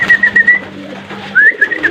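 Racing pigeon arriving at the loft during a derby race, cooing in two short bursts of soft, rolling coos close by, with a quiet gap between them and no talking.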